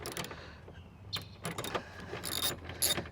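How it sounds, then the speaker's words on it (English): Hand tool loosening and backing out 10mm bolts holding the applique on a Ford F-150 tailgate: a series of short metallic clicks and scrapes in bursts, close up, with no talking. "The first thing I want to do is remove these 10mm bolts."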